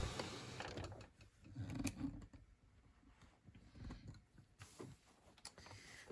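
A home sewing machine topstitches the tops of pockets using heavy topstitching thread, with a quiet, uneven mechanical whir and clatter of the needle and gears in short runs, close but faint, and no talking.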